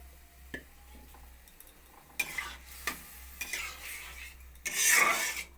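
A spoon stirs thickened milk in a pot for semai, soft scraping strokes and light clinks of metal with a brief hiss, close and fairly quiet, no talk.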